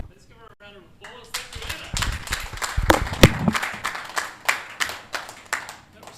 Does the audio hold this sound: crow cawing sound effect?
no